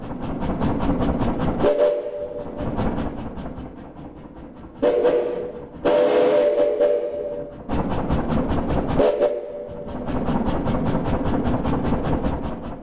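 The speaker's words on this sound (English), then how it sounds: "we are hearing mostly the sound of the steam engine convolve with the impulse response of the space" Rhythmic chuffing of a computer-simulated steam engine with whistle blasts, the sound smeared by heavy distance reverb so it seems to come from far off.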